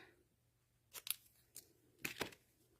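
Scissors snip several times in short, separate cuts during a sketching session, quiet and close with silence between the snips.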